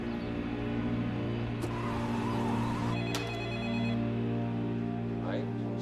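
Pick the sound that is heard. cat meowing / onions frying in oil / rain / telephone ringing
telephone ringing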